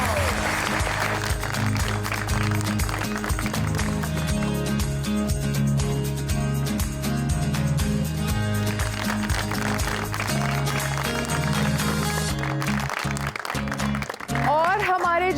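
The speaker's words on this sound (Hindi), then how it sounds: "आप सब की तालियों में सीमी राहील जी।" Studio audience clapping on a Pakistani talk show, a continuous wash of applause mixed under background music, with a host's voice speaking over it.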